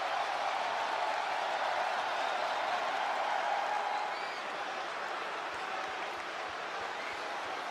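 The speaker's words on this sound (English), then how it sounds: "And this crowd is buzzing over that." A wrestling arena crowd in the WWE 2K25 video game buzzes with a steady dense roar and scattered applause, loud at first and easing slightly in the second half.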